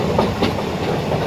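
Haldia 22330 superfast express train running along the rails, with a steady rolling rumble and faint rhythmic wheel clatter heard from on board, continuous throughout with no talk.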